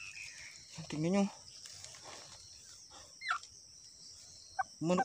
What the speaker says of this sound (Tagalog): Manok bahay ito.